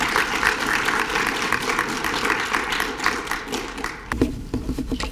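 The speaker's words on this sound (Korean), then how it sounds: "박수로 모시겠습니다." An audience applauds at a Korean organ donor memorial ceremony, dense clapping that fills the room before it abruptly thins to a few scattered claps.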